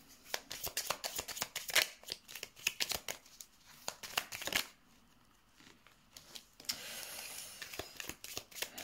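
Tarot cards are shuffled ahead of a draw, producing quick close riffling and flicking bursts, then softer sliding and rustling toward the end, fairly quiet overall.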